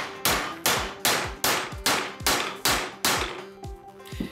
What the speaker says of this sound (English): We'll go ahead and take this right here and we're gonna smack this several times.